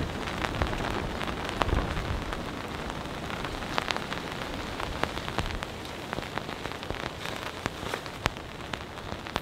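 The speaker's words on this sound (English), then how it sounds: "It's a combination of wind and heavy rain." Heavy rain pours down with gusting wind during a storm at a camping spot, a dense, steady roar with scattered sharp drops striking a surface up close, and no talking.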